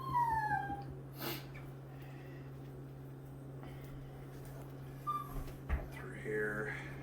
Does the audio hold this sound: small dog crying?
yes